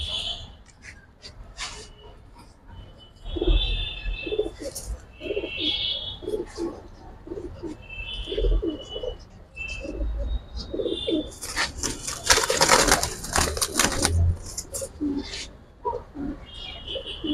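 Giribaz pigeons, a silver-colored pair among them, coo in repeated soft bursts with a brief flurry of wing flapping midway, while someone talks intermittently nearby.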